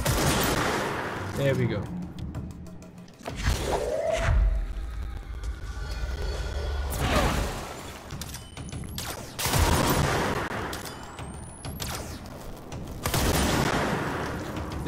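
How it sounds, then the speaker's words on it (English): The player's weapon fires in the video game Control, loud bursts of shots in several clusters separated by quieter gaps, with someone briefly speaking between them. "I'm gonna shoot them before they start shooting me."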